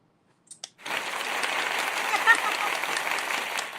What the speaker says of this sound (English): thank you for the round of applause